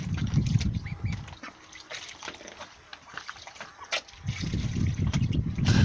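Young Pekin ducks quack and chatter in bursts close by, with softer water splashing and dribbling between their calls.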